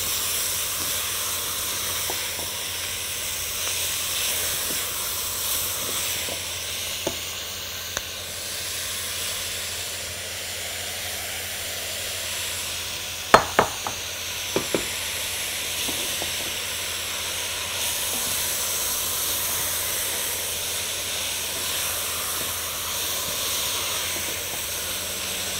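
Spinach sizzles and hisses steadily in a pan for a spinach-and-meat dish, a continuous close frying hiss with a few brief clinks of utensils stirring against the pan, with no voices.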